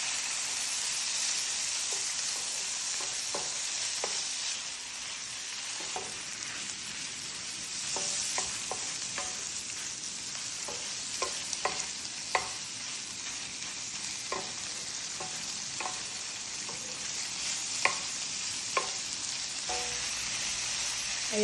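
Chicken fries in a pan with ginger and garlic for fried rice, giving a continuous loud sizzle. A utensil repeatedly scrapes and taps against the pan in close, irregular stirring strokes.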